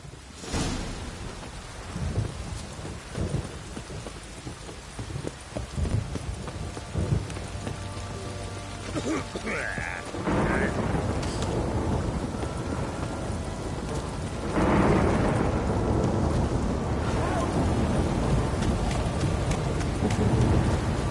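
Steady rain pours down in The Witcher 3: Wild Hunt while thunder rumbles and cracks repeatedly, growing heavier and louder toward the end.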